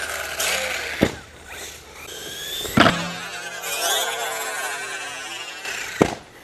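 A Rlaarlo DSK RC car's electric motor whines and surges as the throttle rises and falls, with sharp clacks and bumps at intervals as it runs over rough ground, close and fairly loud.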